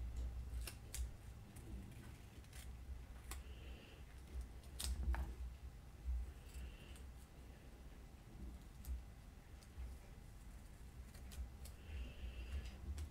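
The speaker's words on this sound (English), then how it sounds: "I'm just going to take some scissors and just trim that off to remove that white" Scissors trim white excess paper from a cutout for a Bible journaling page, giving a series of quiet, crisp snips spread through the clip. No one speaks over them.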